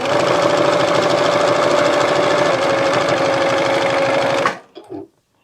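A sewing machine runs continuously and loudly up close while piecing quilt half-square triangles, its rapid stitching hum steady for several seconds before stopping abruptly, followed by a few faint handling sounds.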